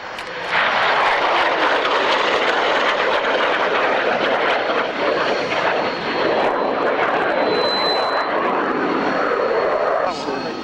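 At the Kemble airfield airshow, an aircraft makes a pass from right to left with a loud, sustained engine roar close by, and a commentator's voice is heard over it.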